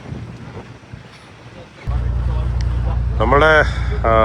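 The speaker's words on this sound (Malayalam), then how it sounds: "നമ്മൾ പുറപ്പെട്ട ബോട്ട് ജെട്ടിയിലേക്ക് തിരിച്ച് പോയിക്കൊണ്ടിരിക്കുകയാണ്" Steady low engine rumble of a boat underway in Coringa Wildlife Sanctuary, Andhra Pradesh, heading back to the jetty, with wind buffeting the microphone; a voice speaks briefly toward the end.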